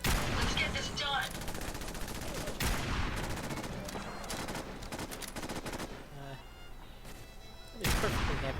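Gunfire in Fallout 4 in survival mode, with dense bursts of shots in a loud, steady barrage running through most of the stretch, plus sharp louder cracks near the start and near the end.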